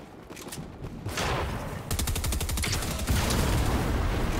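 Pistol gunfire in a video game, quick repeated shots in rapid rhythmic bursts, loud and close, following a short quieter lead-in.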